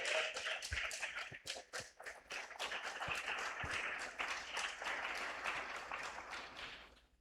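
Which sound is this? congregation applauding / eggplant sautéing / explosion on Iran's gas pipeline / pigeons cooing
congregation applauding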